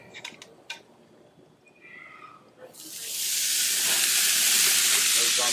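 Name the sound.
flank steak sizzling on a hot oiled grill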